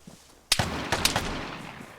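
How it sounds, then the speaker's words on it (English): Gunshots ring out in the video game Vigor: a sharp loud report followed by two more quick shots with a trailing echo, alone without talk. "All I have to go off of is the sound of his gunshots"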